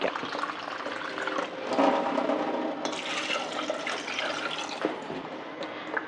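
Water is poured steadily into a pot for making chicken soup, a continuous splashing, gurgling flow lasting several seconds close by.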